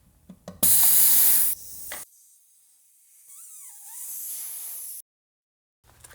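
Air hisses out of a tire valve stem after the core is removed on a 2008 Chevy, starting as a loud, close rush, then dropping to a quieter, steady hiss before cutting off abruptly.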